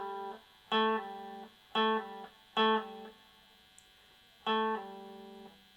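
Four separate short electric guitar pull-off phrases, each a plucked note that quickly slides down to a lower pitch, separated by brief pauses; clean and fairly quiet.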